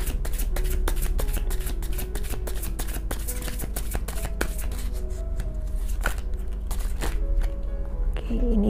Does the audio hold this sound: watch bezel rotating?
no